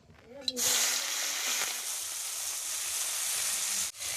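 Fish dropped into hot pure mustard oil in a kadai, bursting into a loud, steady close sizzle that holds evenly for several seconds after a brief quiet start.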